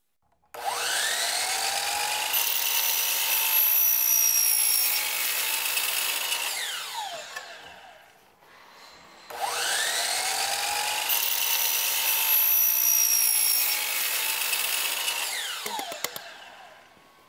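A power saw cutting an outdoor stair railing handrail for a patio or balcony, two long sustained whining cuts of several seconds each, loud and close, separated by a brief pause.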